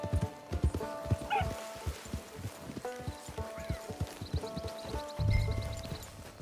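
Horse hooves clip-clop in a steady walking rhythm in Red Dead Redemption 2, close and clear, with soft rustling, a brief whinny-like sound and a low thump near the end.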